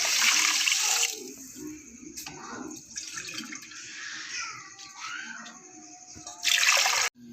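Water pours and splashes into a pot holding sugar in a home kitchen, a loud rushing stream at the start and again near the end with gentler trickling between.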